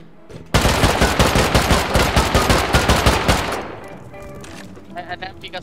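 Loud automatic gunfire rattles in the survival video game Rust: a long, rapid run of shots for about three seconds that then fades into quieter scattered sounds, with voices talking in the game.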